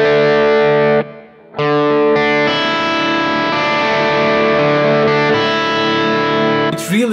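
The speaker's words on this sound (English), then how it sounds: "And likewise you can play the 1st string an open string." A distorted electric guitar rings out a sus4 chord with an open string, strummed loud and sustained, cut off briefly then struck again and held, ending with a short scrape of string noise.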